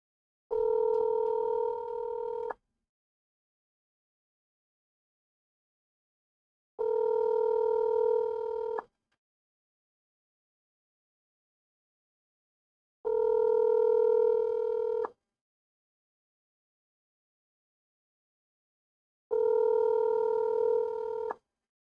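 Ringing tones sound on a telephone call being placed, with four clean, steady tones of about two seconds each separated by long silent gaps.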